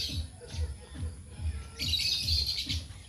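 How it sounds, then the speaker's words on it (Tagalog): Lovebirds chirp and chatter in quick bursts, getting busier and louder halfway through, over a low rhythmic thumping in the background. "Narinig nyo ba yung huni ng ibon?"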